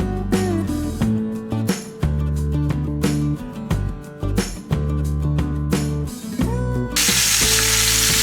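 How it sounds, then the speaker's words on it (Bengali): Salted boiled potatoes fry in a pan over a raised flame while being stirred, steady sizzling with repeated scraping and clinking strokes, close and loud, ending in a burst of hissing. "এবার এটাকে একটু আমরা নেড়ে নিচ্ছি।"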